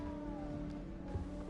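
A small cat meows softly in Hogwarts Legacy, a brief faint call over steady game ambience and music.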